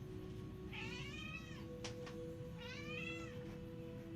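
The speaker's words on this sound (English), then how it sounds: "He's saying meow meow meow meow." A pet cat meows for food, two drawn-out rising and falling cries about a second apart, fairly close over a steady low background hum.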